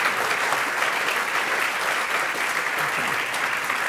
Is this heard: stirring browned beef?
no